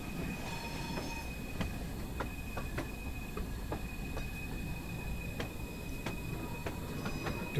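An LMS Stanier 8F steam locomotive rolls along rails with a continuous low rumble, repeated wheel clicks and a thin sustained squeal, steady and fairly close with no talk.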